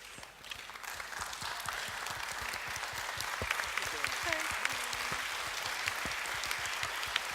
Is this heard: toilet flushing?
no